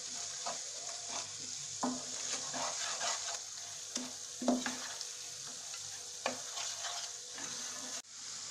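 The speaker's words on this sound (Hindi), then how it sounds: "अब यहाँ डाल देंगे हम धनिया पाउडर और 1 मिनट में इसको भून लेंगे हम" Coriander powder roasts in a tomato and onion paste in a pan, with a soft, continuous sizzle broken by repeated scrapes and knocks of a spoon stirring. The sound is fairly quiet, with a sharper clank near the end.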